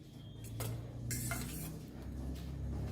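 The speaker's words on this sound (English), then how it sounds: "Now I will just mix this and keep this" A Christmas cake fruit mixture with eggs and allspice powder is stirred in a bowl, giving soft, close scraping and a few light clinks of spoon against the bowl under a low steady hum.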